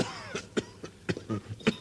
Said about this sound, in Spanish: ¿desde cuándo tienes esa tos?